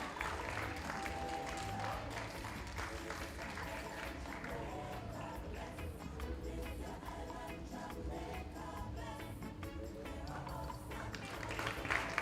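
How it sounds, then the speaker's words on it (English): Audience applauding award winners at a performing arts awards ceremony, dense continuous clapping from a crowd filling the room, steady and sustained. "A big round of applause for Dr. Campbell and all the awardees in thi"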